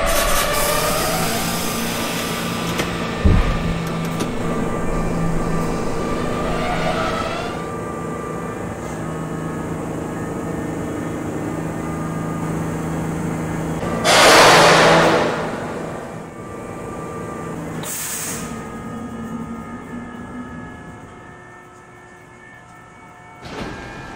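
A simulated R40A subway train on the B line rumbles and screeches as it slows into Brighton Beach, with a loud hiss of air brakes midway and a shorter hiss later as it settles to a stop.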